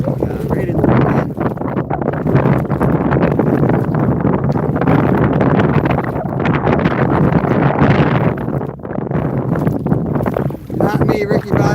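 Wind buffets the microphone continuously while kayak fishing on a river, a loud, gusting rumble that fills the whole stretch with faint rustling underneath.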